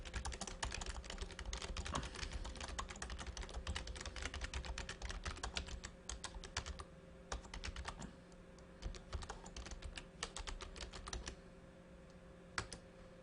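Rapid typing on a computer keyboard, steady clicking clatter through most of the stretch, thinning into sparser keystrokes toward the end, close and clear with no talk.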